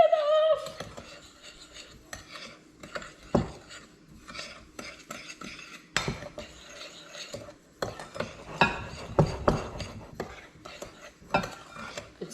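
A utensil scrapes and clinks against a bowl while rhubarb pie filling is stirred, with irregular close knocks and rattles in uneven bursts.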